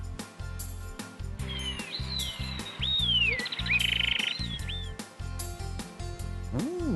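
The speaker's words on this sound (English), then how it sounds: "Those are birds." Tropical rainforest birds sing a series of bright chirps and whistling calls for several seconds over a steady rhythmic music bed.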